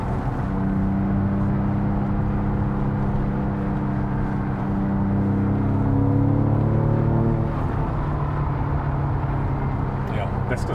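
A Porsche 911 drives on a closed course in Mexico, its engine a steady low droning rumble with rising and falling tones as the revs shift, continuous and close, while people talk over it.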